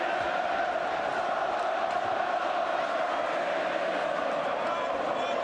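Steady roar of a packed boxing arena crowd during the Ricky Hatton vs Juan Lazcano fight, a dense continuous wash of voices and cheering at even loudness throughout, with commentary voices blended underneath.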